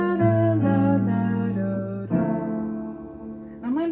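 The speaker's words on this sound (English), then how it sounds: "what I'm going to do is I'm actually going to create a little arpeggiated melody" A short arpeggiated melody of sustained, clear tones played alone on an instrument or sung, stepping through chord notes and then settling on a lower held note.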